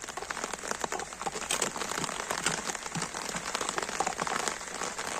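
Heavy rain falls outdoors in a steady, close, crackling patter on surfaces, constant and even throughout, with no voices.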